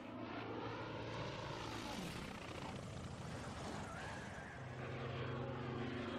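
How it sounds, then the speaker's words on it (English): Droning engines of aircraft in a World War II Iwo Jima video game, a steady whirring roar with a pitch sweep as planes pass, loud and continuous throughout. "Planes, let's land and get some fuel"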